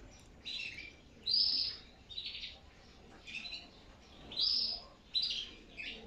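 Young canaries in cages chirp and sing in repeated bright bursts of high trills with short gaps between them, close and fairly loud.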